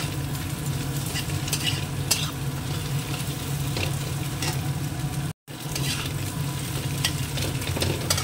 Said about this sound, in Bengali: দিয়ে দিলাম টমেটোটা, একটু নরম হয়ে যাক, আর একটু কাঁচা লঙ্কার কুচনোটাও দিয়ে দিলাম